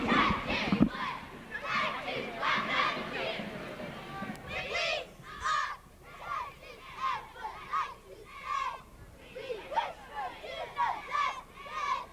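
At a 1991 homecoming parade, school children chant a cheer outdoors in rhythmic shouted bursts, loud and near. The cheering voices rise and fall in repeated phrases.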